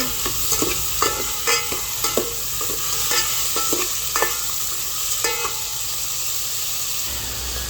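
A spoon stirs a sautéed base for ginisang monggo with shrimp in a pan. Repeated rhythmic scraping strokes sit over a continuous hissing sizzle, close and fairly loud, with no speech.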